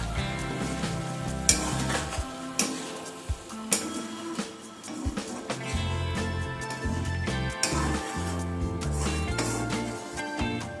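Thecha chicken being stirred and mixed with ghee in a pan off the flame, a spoon scraping and clattering against the metal in irregular strokes, fairly close and moderately quiet, with a faint sizzle underneath.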